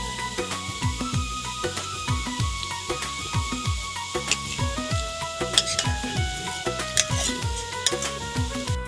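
Helencha greens dropped into a pan of simmering turmeric-spiced pangas fish curry, giving a steady close sizzle with repeated scrapes and knocks of a spoon against the pan, no voices.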